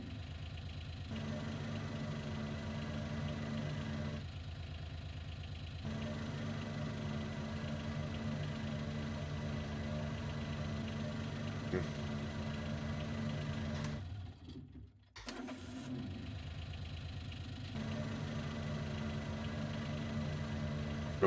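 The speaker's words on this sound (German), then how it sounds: "und starten den Motor." A tractor engine runs steadily in Landwirtschafts-Simulator 19 on a farm, a continuous mid-pitched idling hum with a brief dropout midway before it resumes at the same level.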